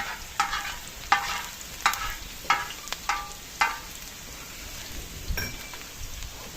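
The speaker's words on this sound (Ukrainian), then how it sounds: "Цибуля з морквою обсмажилась. Робимо місце для риби." Onion and carrot fry in a pan as space is cleared for carp: a constant sizzle under about six brisk scraping strokes of a utensil, then a quieter hiss.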